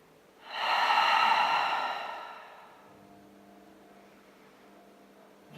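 A long, breathy exhale during a morning yoga session lying on the floor, loud and airy for about two seconds, then fading into a quiet, steady hum.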